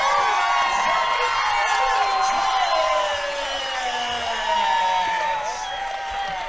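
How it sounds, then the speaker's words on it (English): Spectators at a 2018 women's basketball state championship grand final cheer loudly after a back-to-back title win, a dense, sustained roar with shouts and whoops filling the arena throughout. "let's soak in a little bit of this crowd enjoyment"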